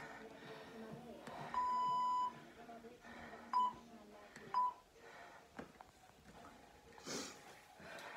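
An interval timer for a HIIT cardio and weights workout gives a long steady beep followed by two short beeps while being set, fairly close, over faint room noise and some speech.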